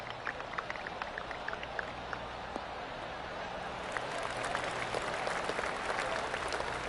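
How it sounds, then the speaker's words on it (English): Golf spectators clap around the course at a championship, a dispersed patter of distant applause that swells slightly toward the end, with a voice faintly in the background. "Oh, I can hear the golf claps around the course."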